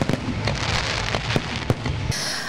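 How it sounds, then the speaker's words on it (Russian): Festive fireworks at a city anniversary celebration, a rapid string of crackling bangs and pops at moderate distance over a continuous roar, ending abruptly. "Завершил мероприятие праздничный фейерверк."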